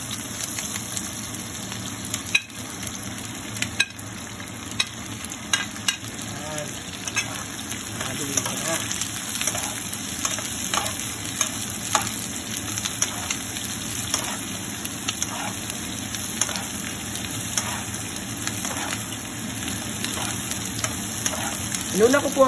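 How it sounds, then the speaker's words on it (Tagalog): Carrots stir-frying in a pan with onion for sweet and sour shrimp, a steady sizzle with scattered crackles and occasional scraping of the utensil, continuous and fairly loud. "I-stir fry ko siya ng 1 minute lang"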